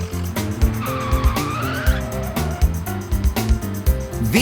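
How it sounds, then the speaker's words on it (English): Monster trucks drive fast with revving engines and squealing tires, loud and close, in a busy series of bursts and skids mixed with punchy hits and music-like tones. "Vroom is the sound the trucks make when they drive very fast"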